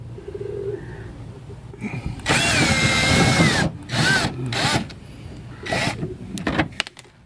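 A power drill spins out a 10 mm screw holding the fascia corner on a Gen 2 Prius, giving a few loud, close whirring bursts with pauses and birds faintly behind.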